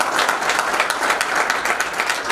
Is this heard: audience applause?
yes